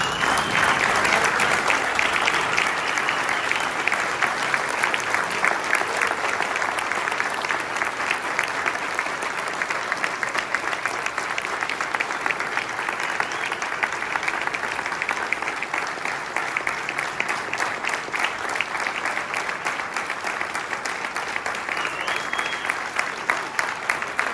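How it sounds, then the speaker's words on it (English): A standing audience at an ILWU Local 13 swearing-in ceremony applauds steadily and loudly, a dense wash of clapping that carries on unbroken for more than twenty seconds. "I want everybody to stand up and give this woman a round of applause."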